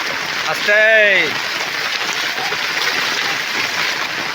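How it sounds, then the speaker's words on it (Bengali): Heavy rain pours steadily outside a roadside house during flooding, with water entering the house; the downpour hisses constantly throughout while a voice rises briefly near the start. "প্রচুর বৃষ্টি হলো, প্রচুর।"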